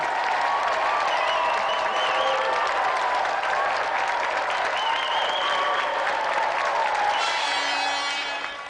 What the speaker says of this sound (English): So let's give another round of applause for Thomas and Christopher Celestine and Vic